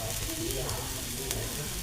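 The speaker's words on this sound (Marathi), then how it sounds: "थोडंसं आपण तेल टाकू आणि घावन काढू. हे बघा, तवा चांगला तापायला हवा" Rice flour ghavan batter sizzles on a hot, thick iron griddle, a steady close crackling hiss that holds evenly for a couple of seconds.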